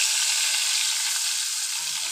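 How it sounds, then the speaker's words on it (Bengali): Fish fries crisp in hot oil, with a loud, close, steady sizzle that continues without pause and no voices. "এটাও খুব সুন্দর একইভাবে মচমচে করে আমরা ভেজে নেব।"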